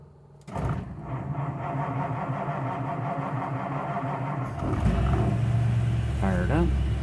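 A 1953 Ford flathead V8 cranks on a cold start with the choke on, catches and settles into a low, rumbling idle close by, revving up near the end. A voice talks briefly over it.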